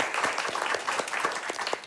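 Crowd applause at the finale of RPG Limit Break 2025, a charity gaming marathon event, a continuous rolling patter of many hands clapping at moderate loudness, filling the short moment without any voices over it.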